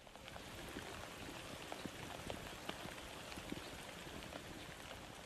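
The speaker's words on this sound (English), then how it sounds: "until she feels the first drops of rain at 8:24 p.m." Steady rain falls outdoors as a dense, even hiss with scattered sharper drops pattering on surfaces throughout, with no voices.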